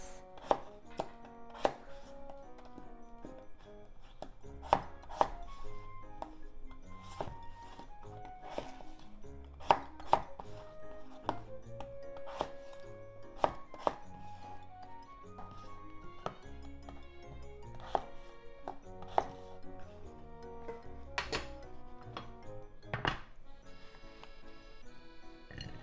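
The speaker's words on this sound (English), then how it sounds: "Then cut into chunks." A knife chops potatoes into chunks on a board for Japanese potato croquettes, giving a steady series of sharp, close thuds at an uneven rhythm over about twenty-five seconds with no talking.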